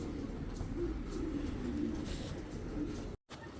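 Soft, low coos of ornamental pigeons murmur repeatedly in the background, faint and continuous, with a brief dropout near the end.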